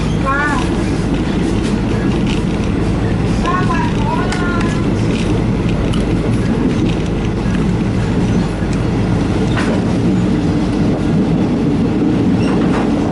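A moving train clatters and rumbles loudly and continuously on the rails, heard from inside the dining car, with faint squeals of metal running under the steady noise.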